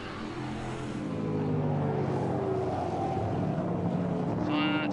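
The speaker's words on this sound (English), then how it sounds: "Stephen Davison just going past our commentary position, racing in TA4." A Trans Am TA4 race car runs past a trackside commentary spot at Mid-Ohio Sports Car Course, its loud engine note sweeping steadily upward in pitch under a continuous drone, with a faint voice in the background.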